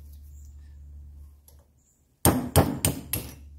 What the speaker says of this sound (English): we'll start to chisel it through